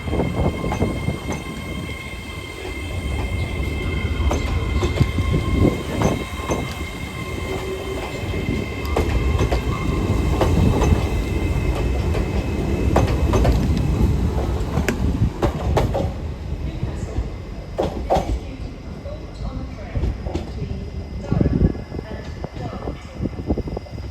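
A passenger train rolls through Newcastle station with a loud, steady rumble and rattling wheel clatter that holds for most of the stretch, then eases off toward the end, with faint voices in the background.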